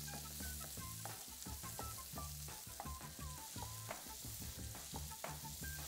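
Bacon sizzling and crackling steadily in a hot pan, with dense popping spatters throughout and no voices.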